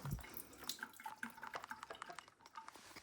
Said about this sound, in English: I'm going to empty my iron because I may not get any more ironing done until the other side of Christmas